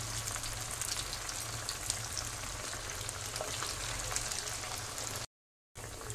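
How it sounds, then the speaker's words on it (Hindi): Potato strips fry in oil over a low-to-medium flame for a snack, with a steady crackling hiss that breaks off briefly near the end before resuming, and no voices. "लो टू मीडियम फ्लेम पर हम इनको फ्राई करेंगे।"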